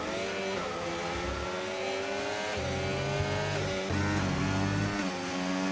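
Engines of Ferrari and Mercedes race cars in a Bahrain Grand Prix sim race whine loudly and continuously, with several engine notes overlapping and shifting pitch as the cars accelerate and change gear.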